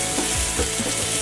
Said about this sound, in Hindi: अब मैं इसमें डाल रही हूँ कैप्सिकम जिसको मैंने बारीक काटा था. और इसको भी हाई फ्लेम पे हमें फ्राई करना है.